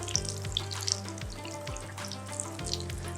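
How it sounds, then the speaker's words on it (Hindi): A potato masala mixture for vada pav frying in a pan makes a soft, even sizzle, faint and close, with a few light clicks over it. "थोरो हुनखे फ्राई कयो त जीअं पटाटा अञा बि ज़बरदस्त मज़ेदार थी वञनि"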